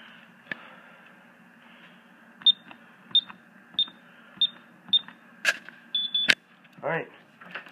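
A fire station alarm keypad beeps as the alarm is set: a string of short, evenly spaced electronic beeps, then a couple of sharper chirps and a quick double tone, with faint voices and room noise in the background.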